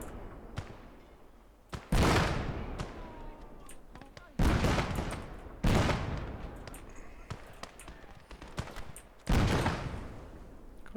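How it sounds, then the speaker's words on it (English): Field guns boom in the World War II game Call To Arms: Gates Of Hell, four or five heavy, widely spaced blasts each trailing into a rumbling decay, with scattered lighter shots between them. "What bloody field guns they bring up, man."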